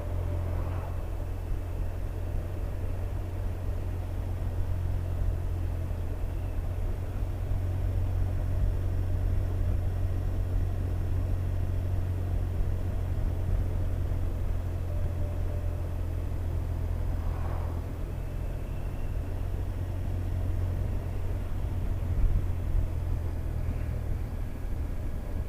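A motorbike engine holds a steady, even drone while cruising at 30 mph in third gear downhill, continuous and close with faint wind rush and no talking.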